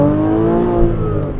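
A Porsche Cayman S 987 flat-six revving through a newly fitted aftermarket exhaust, with an exhaust leak, makes a loud, close, sustained engine note that holds steady and dips slightly near the end.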